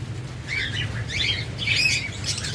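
A pair of green Fischer's lovebirds chirping in repeated bright bursts over a low steady hum, with a soft flutter of wings, fairly close and moderately loud.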